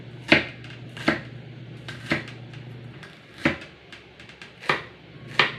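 Knife chopping onions on a board, about seven distinct sharp chops spaced roughly a second apart, close and clear over a steady low background hum.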